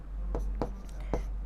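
Short scratchy strokes of writing on a surface, three quick faint bursts in a quiet room during a Class 10 maths lesson.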